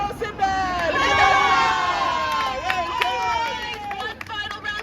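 Theme park pirate show audience erupting in loud cheers, shouts and whoops after Sinbad's victory, a dense crowd roar sustained throughout with excited voices of adults and children.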